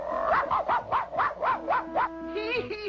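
A cartoon dog from the Clutch Cargo episode "The Arctic Bird Giant" barks about eight times in a fast, even rhythm, loud and close, with a short tonal sound trailing after the barks.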